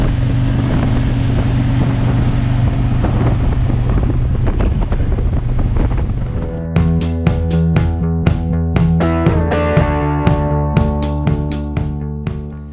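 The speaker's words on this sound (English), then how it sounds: "Gonna get back on trike, ride some more" A Harley-Davidson Milwaukee Eight trike on the road, its engine a steady low rumble under heavy wind buffeting, then shifting to a rhythmic, pulsing throb with sharp repeated bursts, recorded close while riding.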